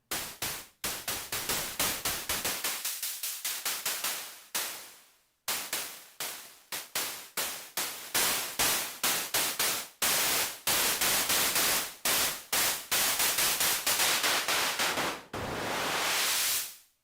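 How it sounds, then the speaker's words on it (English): Noise sweeps from the FM drum track of an Elektron Digitone II: bursts of harsh white noise retriggered in quick rhythmic runs, some cut short and others swelling longer, with brief gaps between phrases. "Let's pick a track for a noise sweep. I think we'll use the FM drum for that"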